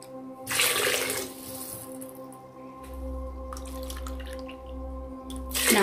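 Water poured into a cooking pot of gongura biryani, a steady splashing pour heard up close for several seconds alongside low kitchen hum, with no talking.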